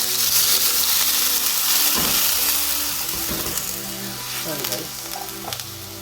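Chicken broth hits a hot pan of japchae with a loud, steady broadband sizzle that settles into a softer bubbling hiss, with faint stirring clinks near the end.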